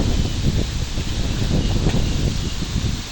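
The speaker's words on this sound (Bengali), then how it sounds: "প্রচুর বাতাস হচ্ছে কিন্তু, এই যে দেখেন" Strong gusting wind sweeps across a small goat farm ahead of a storm, a loud, continuous rushing roar with rustling and microphone buffeting throughout, no voices.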